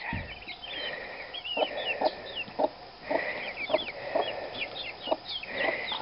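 Several hens cluck and murmur close by, with soft repeated bursts and higher chirps from young birds mixed in.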